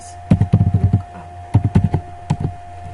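Keystrokes on a computer keyboard as the nslookup command is typed during a DNS server check, two quick bursts of clicky taps close to the mic, with a lone tap between them and no talking.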